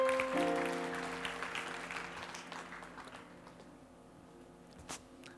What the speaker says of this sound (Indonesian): Berikan tepuk tangan bagi Tuhan Yesus.